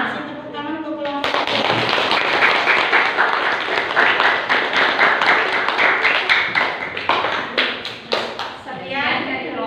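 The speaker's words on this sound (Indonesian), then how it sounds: "Kasih tepuk tangan untuk kelompok." Students in a classroom applaud for a group after their presentation, a burst of close, loud clapping from many hands lasting several seconds, with children's voices before and after.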